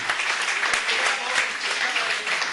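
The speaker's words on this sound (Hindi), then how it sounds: "जोरदार तालियां पूरा सदन एक बार बजा दे।" A hall audience at a poetry recital breaks into dense, sustained clapping, loud and even across the whole stretch, with faint voices mixed in.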